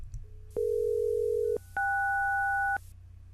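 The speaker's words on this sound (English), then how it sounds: "We then start the analysis and use Dial in the Generator tab to send the SELCAL tones." SELCAL tone pairs from an R&S CMA180 radio test set generator: a steady pure tone for about a second, a brief gap, then a two-tone chord held for another second, clean and loud over a low hum.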